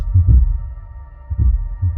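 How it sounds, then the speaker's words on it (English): Heartbeat sound effect: deep, muffled lub-dub thumps recurring about once a second over a faint steady hum, close and alone. "A heart beating inside the chest with a steady strength."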